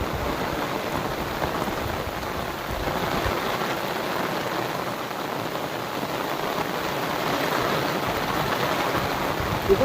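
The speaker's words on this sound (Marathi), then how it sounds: "जाम पाऊस आलाय जाम" Steady heavy rain falls over open countryside, a dense, even hiss of drops lasting throughout with no one speaking.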